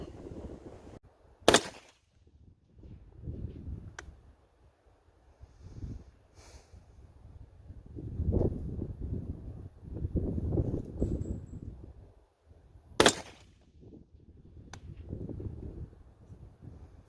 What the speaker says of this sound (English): So I'm going to shoot this thing cold, 5 shots